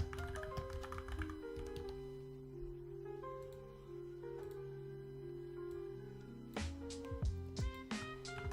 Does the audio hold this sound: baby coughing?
no